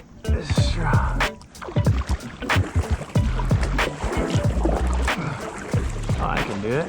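Paddle strokes splash and drip on a strong river current while fishing, water sloshing against the boat in irregular bursts, with people talking over it close by.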